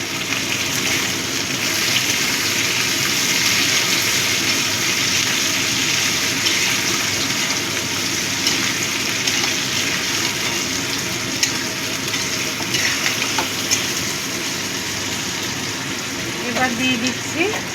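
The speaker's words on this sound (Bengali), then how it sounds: "এবার আমি টমেটো কুচিটা দিয়ে দিলাম।" Chopped tomato sizzles loudly and steadily in a pan with frying potato and onion for chana masala, a constant hissing fry that carries throughout.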